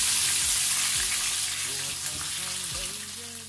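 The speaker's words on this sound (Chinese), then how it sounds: "放一点花椒、桂皮、香叶、小茴香，炸一下" Sichuan pepper, cinnamon, bay leaf and fennel fry in hot oil with a steady, close hiss and sizzle, stirred occasionally, while a voice speaks faintly underneath.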